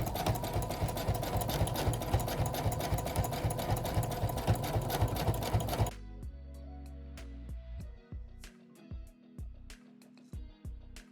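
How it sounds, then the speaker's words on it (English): A sewing machine quilting squiggle patterns on an oven mitt, running fast in a steady close rattle for about six seconds, then stopping into scattered quieter clicks and short bursts of stitching. "now to start quilting"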